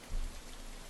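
Rain falls steadily in the Homestuck game, a dense, even hiss of drops with a brief low rumble near the start and no talk.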